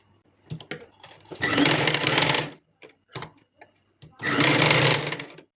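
A sewing machine runs in two sustained bursts, joining a cross piece of fabric for a ready-made nighty, with short pauses and a few handling clicks between the runs.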